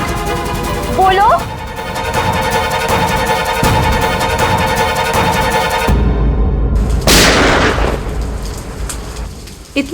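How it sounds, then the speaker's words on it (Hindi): A single sharp gunshot cracks out over steady heavy rain in a city scene from a crime drama, ringing out loud and close after a stretch of tense music. "ये कहीं गोली चली है।"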